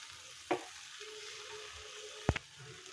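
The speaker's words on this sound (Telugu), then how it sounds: "ఇలా పొడి పొడిగా వచ్చేంత వరకు మనం ఫ్రై చేసుకుంటూ ఉండాలి" Cabbage frying in a pan for a cabbage egg fry gives off a faint, steady sizzle, with a couple of brief stirring clinks against the pan. No one speaks.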